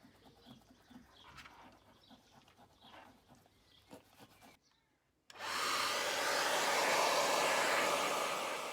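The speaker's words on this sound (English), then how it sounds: "A hairdryer, again, to warm it up, makes the pad softer and easy to work with." Hairdryer warming the adhesive pad of a plastic car badge on a Jaguar XK8, starting abruptly after quiet background noise and a brief pause, then blowing as a loud, steady, close whoosh.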